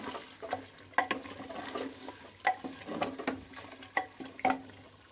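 A spoon stirs ground kunna masala into fried mutton in a pan, with soft scraping and irregular clinks of metal over a low background sizzle.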